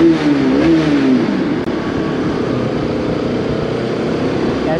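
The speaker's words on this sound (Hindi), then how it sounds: "इसमें एक बार तो डेविल का एग्जॉस्ट का आवाज़ सुनना बनता है" A car's exhaust roars inside a road tunnel in North Sikkim, opening with a loud rising rev that settles into a booming, echoing drone.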